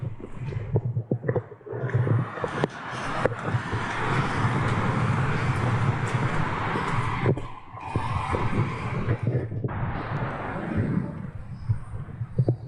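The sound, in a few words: wind and passing traffic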